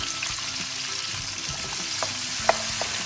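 Friggitelli peppers fry in a pan with garlic and onion, giving a steady, dense sizzle with a few small pops and clicks, and no talking.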